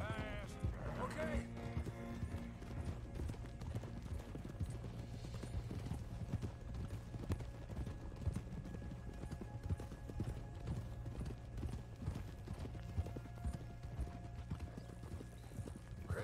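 Horse hooves clip-clop at a steady gait in the Western video game Red Dead Redemption 2, a continuous soft rhythm with a brief whinny near the start and characters talking over it.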